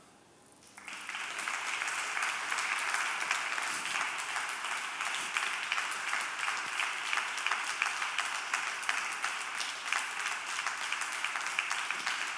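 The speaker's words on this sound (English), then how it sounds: "So this is your applause for a really very interesting session" Conference audience at re:publica 2013 in Berlin breaks into sustained applause after a session. It swells quickly from quiet to a steady, fairly distant wash of clapping that holds evenly.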